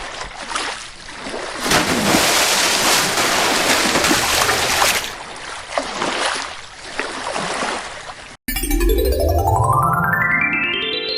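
Cartoon river water rushing and flowing steadily for about eight seconds, loud and continuous, then cut off abruptly by a rising synthetic sweep effect.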